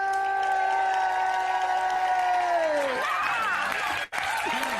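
A sustained musical tone fades out, then a show audience breaks into loud applause and cheering for an arriving guest, continuing to the end.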